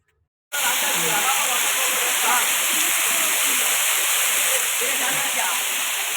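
Hidlumane waterfall near Kodachadri plunges from a height in a loud, unbroken roar that starts suddenly and holds steady, while people talk beneath it.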